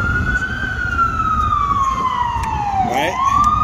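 An ambulance siren wails loud and steady, one long tone slowly falling in pitch and then rising again, over a rumbling vehicle noise with no talk.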